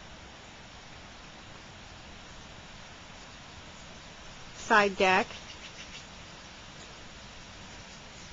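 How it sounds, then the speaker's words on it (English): Water from a creek beside a landscaped front yard flows steadily in the background as a soft, constant rush, while a person speaks briefly partway through. "Can you see the creek in the background? You certainly can hear it."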